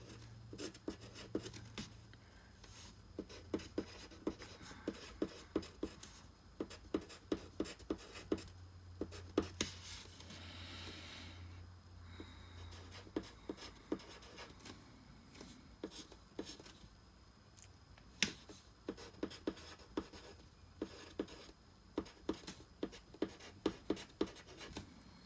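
A pencil scratches steadily across paper, writing out trigonometry working, with a quick run of short strokes and taps repeated throughout, close and fairly quiet, with no talking.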